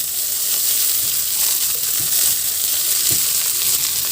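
Chopped mustard greens go into hot oil with fried garlic, setting off a loud, steady sizzle and crackle of frying that continues throughout, with faint stirring scrapes underneath.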